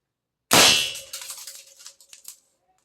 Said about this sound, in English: And here we go. First shot.